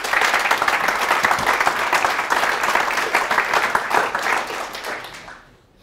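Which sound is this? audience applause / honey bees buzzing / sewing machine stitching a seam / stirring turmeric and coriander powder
audience applause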